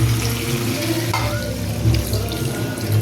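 Water is poured into a pot of spiced potato curry (aloo dum) being cooked, making a loud, steady rush of liquid that runs unbroken for the whole stretch, with no talking.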